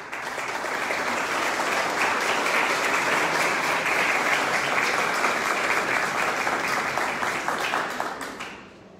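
Strong audience applause welcoming the municipal councillor for ecology and environment at a centenary tribute ceremony, many hands clapping in a loud, dense, continuous roar that fades out near the end.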